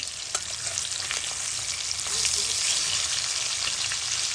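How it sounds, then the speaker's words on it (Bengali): Hilsa fish fries lightly in a pan of oil with a steady, close sizzling hiss and small crackling pops throughout, no voices. "মাছটাকে হালকা ভেজে নেব। ইলিশ মাছ অনেক ভাজলে ভালো লাগবে না।"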